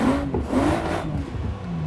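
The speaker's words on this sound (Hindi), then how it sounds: "पहला आप पूरा इंजन साउंड अंदर बाहर से सुने, नॉर्मल सर्कमस्टेंसेस में कैसे है" A BMW M4 Coupe engine revs up and down in rising and falling sweeps, loud and close, with a throaty exhaust note that swells and drops a few times over a steady rumble, and no speech.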